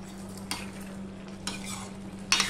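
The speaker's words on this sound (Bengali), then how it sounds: "ভালো করে নেড়ে নিলাম গরম মশলা মিষ্টি সব দিয়ে" Curry being stirred in a pan after garam masala goes in, for a papaya, potato and soybean dish, with a steady low hum, faint sizzling and a few soft spoon scrapes against the pan.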